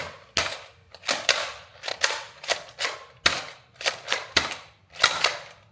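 A modded toy foam blaster fires a string of sharp, loud shots in an uneven rhythm, about a dozen close snapping bursts with brief pauses between them.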